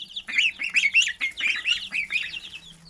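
Young Rouen duck and goslings of a barnyard mix calling close by in a quick series of bright, raspy peeps and honks, about a dozen rapid notes over three seconds.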